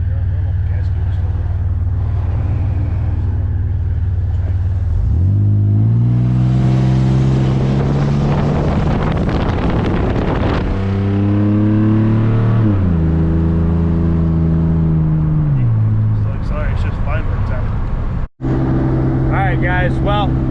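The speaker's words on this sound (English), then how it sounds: "we are driving on the freeway" Chuck wagon truck with failing fuel pumps cruising on a freeway, a loud continuous engine drone rising and falling in pitch through gear changes, with road rumble close inside the cab.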